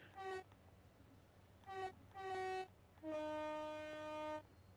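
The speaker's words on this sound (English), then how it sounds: "So that first attempt was a little bit pathetic with the horn" Class 375 electric multiple unit in Train Sim World 3 sounding its two-tone horn: a short toot, two more brief blasts, then one long sustained note, loud and clear over low rumbling cab noise, no voices.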